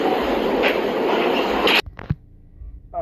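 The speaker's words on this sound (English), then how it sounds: "This is a Queens-bound W local train." A Queens-bound W local New York City subway train heading to Rector Street makes a loud, steady rumbling roar, then cuts off abruptly, followed by a couple of sharp clicks and a faint rattle.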